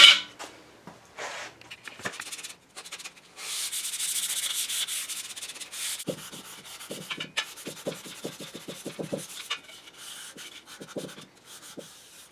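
Hand sanding of a door part from a 1963 Chevy C10, a series of close, dry scraping strokes, some long and sustained, others short and rapid in a quick rhythm, with brief pauses between bursts.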